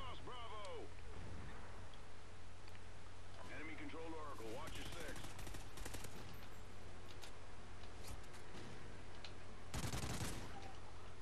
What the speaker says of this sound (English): Got shot by a sniper.